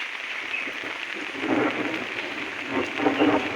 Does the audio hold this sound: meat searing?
no